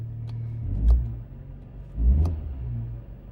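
A Mini Cooper S engine idles unevenly, a low steady rumble broken by two heavier lumpy surges, heard close up with no talk over it.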